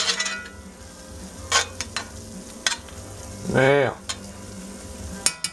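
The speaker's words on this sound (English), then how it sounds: "we're still just cooking that flour down" Flour cooking down in a pan for an onion gravy with beef tips, giving a soft continuous sizzle with a few utensil scrapes and a brief squeaky stir; a voice speaks briefly.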